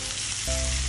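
Ingredients for a spaghetti sauce sautéing in a hot pan, a loud close sizzle that swells briefly as food is stirred.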